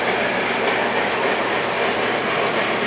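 A beginner toy model train set from 1939 runs steadily on its track, a dense continuous rolling rumble with faint clicking, close and even throughout with no talk.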